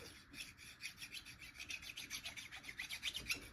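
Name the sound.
small hand file scraping rust off a chainsaw ignition coil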